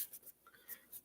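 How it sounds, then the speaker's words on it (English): Pen or pencil writing by hand on paper, faint scratchy strokes in short bursts, close but quiet with no talking. "Let's go ahead and write that down."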